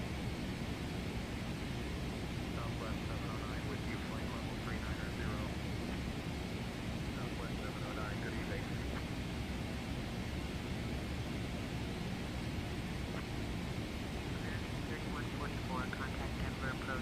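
A Boeing 777-300 airliner cruises at altitude in a flight simulator game, giving a constant broad engine and air roar that stays steady throughout, with faint talk underneath.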